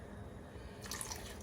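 Water is poured into a pot of ground beef sirloin and vegetable soup, a soft steady liquid trickle with faint splashy dripping that brightens near the end, fairly quiet throughout.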